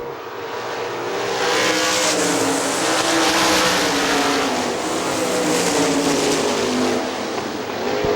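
Sprint cars race around the dirt oval at Hartford Speedway Park, engines roaring steadily for the whole stretch with tire squeal and skidding mixed in, loud and close, with no talk over the pack.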